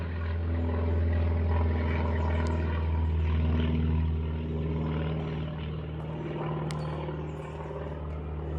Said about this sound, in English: Private airplane.